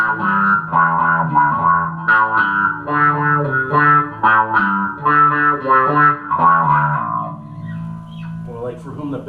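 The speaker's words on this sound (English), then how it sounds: "you can use the fuzz and the wah together, which makes some pretty sick sounds" An electric guitar played through a Morley Power Fuzz Wah pedal, fuzz and wah engaged together, rings out in distorted notes with a sweeping filtered tone, loud and up close before fading into a sustained note.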